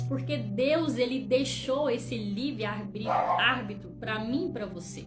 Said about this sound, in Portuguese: Desculpa pelo cachorro, começou a latir agora na hora da pregação.